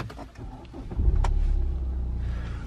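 A BMW with automatic transmission starts: a brief cranking burst, then the engine catches into a steady low idle rumble close by, preceded by faint clicks and movement.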